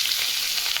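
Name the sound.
dried fish (shutki) bhuna being heated in a pan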